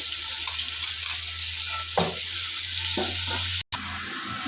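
Onion, chili, ginger and garlic fry for a chicken khichuri, giving a loud, steady sizzle close by, with a few scraping stirs breaking through and a brief dropout near the end.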